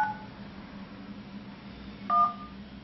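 Keypad tones from a Karbonn Ta-Fone A34 dual-SIM tablet while dialing a call: one short tone near the start and another about two seconds later, each clear and close over faint background hiss.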